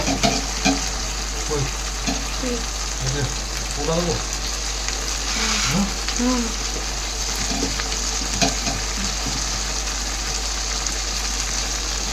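Chicken pieces are being fried and stirred in a pan, giving a continuous nearby sizzle broken by repeated scraping and turning sounds throughout.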